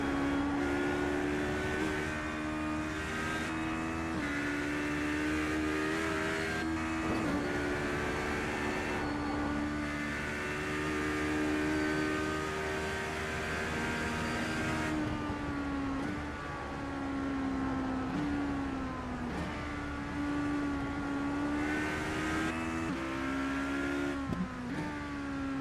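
Race car engines in the iRacing video game whine steadily for a long stretch, their pitch climbing and dropping with gear shifts, moderately loud with no talk.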